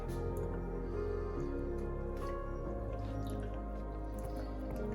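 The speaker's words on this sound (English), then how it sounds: "So you just keep stirring until it's all melted" White chocolate and butter melting together while being stirred in a pan, making soft wet squishing and dripping sounds over a steady low background hum, with no talking.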